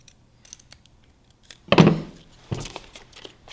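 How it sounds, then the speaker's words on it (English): Scissors slice a drinking straw lengthwise, two crisp close snips with faint handling clicks and rustles between them. "you'll take your straw and you'll cut it down the middle"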